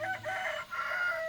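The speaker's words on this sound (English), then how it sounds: "Red jungle fowl." A wild red jungle fowl crows in the forest of Khao Yai National Park, one loud drawn-out call rising and breaking in two parts, close and clear with no talk.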